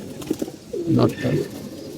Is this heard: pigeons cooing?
yes